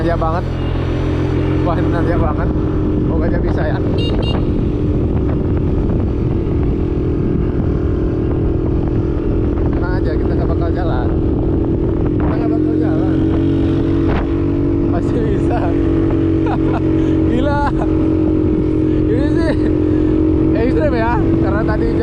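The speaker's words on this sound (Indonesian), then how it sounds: "Semoga kedengeran suara raungan motornya ya." Suzuki Skywave automatic scooter straining up a steep, rain-soaked mountain road toward Ijen crater, its engine droning loudly and steadily throughout with rising revs, and a rider's voice talking over it at times.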